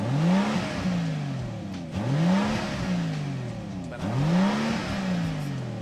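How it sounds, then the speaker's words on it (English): A Rolls-Royce Cullinan Black Badge with its 6.75-liter twin-turbo V12 revs in three repeated bursts, each exhaust note climbing smoothly then falling back, loud and close. "let's listen to the exhaust sound of the Rolls-Royce Cullinan Black Badge."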